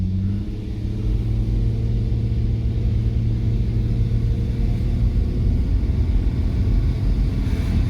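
A Nissan Skyline GT V35 on a test drive after a fuel pedal sensor replacement gives a steady, low engine rumble with a faint rise as it pulls away, heard from inside the car with no talk.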